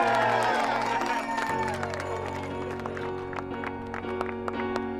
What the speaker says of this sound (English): Applause for Redgrave.